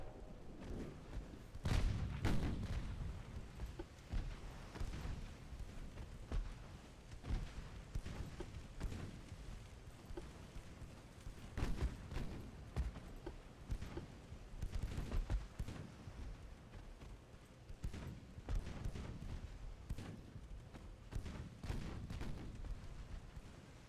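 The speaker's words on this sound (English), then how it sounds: "Meanwhile, we're shooting at the light cruiser." Warship guns in Ultimate Admiral Dreadnought fire at a light cruiser on rough seas, heard as irregular booming shots and sharp cracks over a low rumbling naval battle background.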